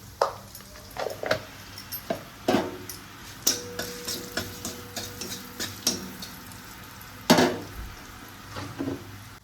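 Ginger and turmeric frying in a pan for dal, with a soft steady sizzle broken by intermittent scraping stirs and clinks of a spoon against the pot, close by and without talk.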